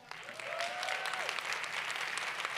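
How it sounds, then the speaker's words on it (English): Sustained audience applause from a large crowd, steady and full after a quick swell, with a brief whistle-like tone gliding near the start; moderately loud and continuous throughout. "Clap it up."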